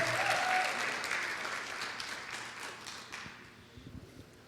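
A congregation at a Pentecost Sunday church service applauds in a broad, moderately distant wash of clapping that gradually dies away, leaving a few scattered claps at the end.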